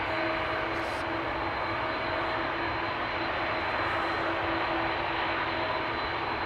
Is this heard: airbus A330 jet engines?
yes